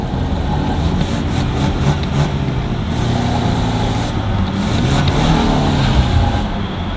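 A car engine runs steadily and close, with a rough, continuous rumble from an exhaust pipe damaged by stones near the lambda sensor. No one talks.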